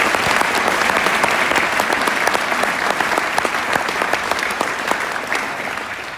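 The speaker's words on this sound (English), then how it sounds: "So let's give Matilda a big round of applause." An audience at a brass band concert gives steady, close applause for a young cornet player, dense clapping that fades slightly toward the end.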